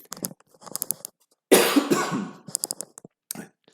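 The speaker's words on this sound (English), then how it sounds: "Nothing like coughing into the mic." Speech is briefly interrupted by a loud, close cough blasted into the microphone, then talking resumes.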